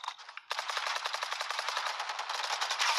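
Rapid automatic gunfire in the game Valorant: after a brief lead-in, a sustained loud burst of evenly spaced shots fills the rest of the moment, with no voices.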